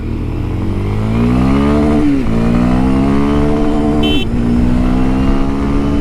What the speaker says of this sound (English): I'm just rev matching, but you could use a clutch.